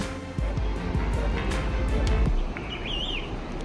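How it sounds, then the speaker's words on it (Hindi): Asian koel calling near Mana village by the Saraswati river above Badrinath, a brief rising, warbling whistle late in the clip, heard faintly over steady rushing river and outdoor noise. "कोयल की आवाज आ रही है"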